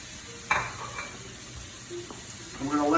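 Butter sizzles steadily in a hot pan on a lowered flame while shrimp and grits are being made New Orleans style, with a soft clink near the start and brief stirring scrapes toward the end.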